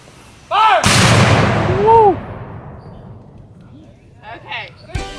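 A historic cannon fires one loud, booming shot at a demonstration at Shiloh National Military Park, and the blast rolls away into echo. Voices shout before it and people talk quietly afterward.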